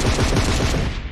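Rapid bursts of automatic gunfire from the mobile battle royale game PUBG Mobile, loud and continuous over a little more than a second with no voice.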